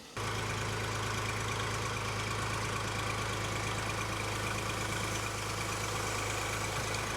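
A tractor engine runs steadily at a low idle while the tractor backs onto a scale, with a constant deep rumble and a loud, continuous hum that holds with no talking.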